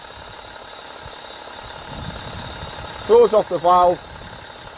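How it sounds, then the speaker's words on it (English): A diesel vehicle engine idles in a steady, low rumble that runs through the whole stretch after a decarbonisation treatment, with a person speaking briefly over it near the end. "we're now going to allow the vehicle to run on idle for a further 10 minutes before going out on road test"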